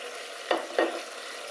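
Veal pieces dropping into a hot pan of mushroom sauce, two quick bursts of sizzle close together over a steady background frying hiss, no talk.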